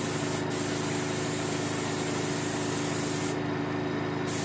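An aerosol can sprays paint in a medium to light coat onto a turkey head being prepared for taxidermy, giving a close, steady continuous hiss that runs through the whole stretch.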